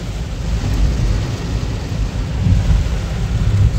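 Heavy rain pours down in Odisha with rolling thunder, a steady, loud, dense roar of rainfall under deep rumbling that swells slightly midway and never lets up.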